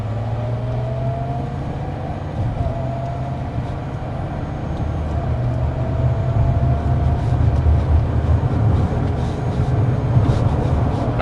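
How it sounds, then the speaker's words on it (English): A 2024 Mazda CX-90 accelerating on pure electric motor power, heard as a loud, steady interior hum and road rumble with a faint rising whine building over several seconds, no voices. "Now I'm going to accelerate under the pure electric power to show you about that."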